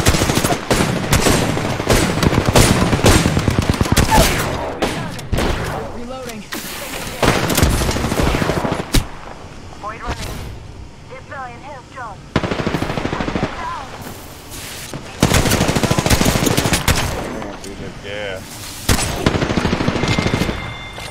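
Video game shootout with dense bursts of automatic gunfire and single shots, loud and close, breaking off into short lulls and returning in heavy volleys, with occasional voices.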